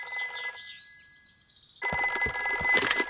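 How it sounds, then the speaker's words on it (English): A telephone rings in a Peppa Pig cartoon: a bright electronic bell trill, then a short pause before a louder, fuller burst of ringing returns, with no talk. "I'll ring Granny Pig"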